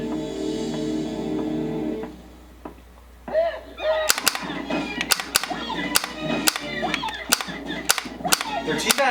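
Rapid, sharp gunshots from a MAME arcade light gun shooter game ring out in an irregular burst of loud cracks after a short lull, with game sounds running underneath.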